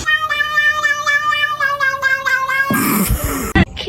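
A cat lets out a long, wavering, tuneful meow that rises and falls like singing, loud and close, then breaks off into a short rough burst of noise at the end.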